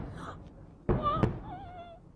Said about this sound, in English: This is a civilian market that has just been hit by artillery shelling. The shelling is still ongoing